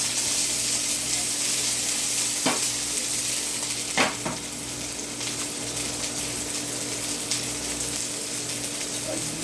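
Cut-up chicken frying in a pan, a steady loud sizzle with a couple of sharp clinks of a utensil against the pan, no talk.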